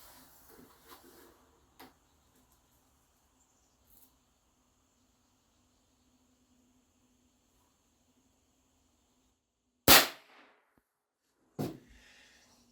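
A Winchester 1890 rifle chambered in .22 WRF fires once at close range with a sharp, loud crack and a brief decay, followed about two seconds later by a second sharp report, after quiet faint handling noises.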